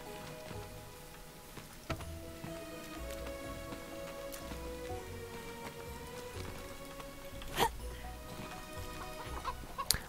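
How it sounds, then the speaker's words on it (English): Rain falls in the video game The Witch of Fern Island, a soft continuous patter with occasional louder drips, while chickens cluck faintly nearby. "Also, it's raining."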